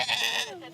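A cashmere goat in the Mongolian desert gives a single short, near bleat with a wavering, nasal pitch, clear and alone.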